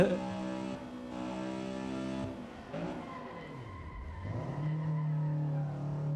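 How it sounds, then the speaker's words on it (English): A Honda Civic EG6 drifts around a race track in the Assetto Corsa racing game, its engine whining and shifting pitch as the tyres skid and squeal, a continuous mid-level roar with no speech. "we're drifting."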